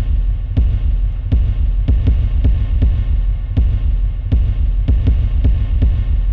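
Dark horror-themed beat from the Incredibox mod The Slaughter: a deep, steady pulsing thump repeating roughly every half second like a heartbeat over a low humming drone, loud and with no voices.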